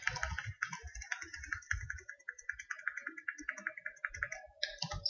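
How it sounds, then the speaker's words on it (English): Arrow keys on a computer keyboard are tapped in a quick, irregular run of soft, close clicks while editing video clips, with no talk. "just using the arrows on my keyboard to find it"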